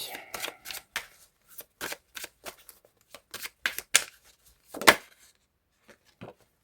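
Oracle cards pulled from a deck and handled, a series of short, crisp papery flicks and taps in an irregular rhythm, close and fairly quiet, with a faint voice at moments.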